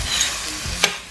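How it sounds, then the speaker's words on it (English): A brief stir of shrimp with red peppers and onions in a hot pan, a short scrape and rustle over a faint steady sizzle, close up. "Stir it up."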